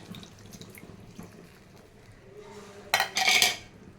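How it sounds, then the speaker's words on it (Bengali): Water poured and swished over a plate rinses into a pan of ground poppy seed and green chili paste, a brief splashing burst near the end after quiet kitchen clatter. "এটা প্লেটটা ধুয়েও জলটা দিয়ে দেবো এর মধ্যে"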